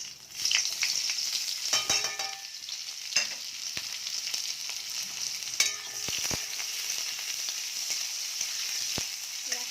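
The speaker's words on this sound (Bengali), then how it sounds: "তো তেল গরম হয়ে গেছে এবার তেলের মধ্যে আমি পেঁয়াজ কুচিটা দিয়ে দেবো" Chopped onion hitting hot oil in a pan, sizzling steadily throughout with occasional sharper crackles and clinks of a spatula stirring, close and fairly loud, no talking.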